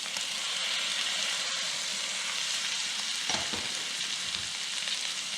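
Carrots, potatoes and corn fry in a pan for picadillo de vainica with a loud, even sizzle throughout and a brief scrape of stirring about midway.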